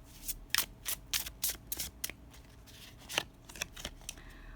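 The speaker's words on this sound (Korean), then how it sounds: "먼저 타로 카드로 뽑아볼게요" Tarot cards being shuffled and drawn, giving a rapid run of crisp, close riffling and flicking bursts with short pauses between them, alone with no voices.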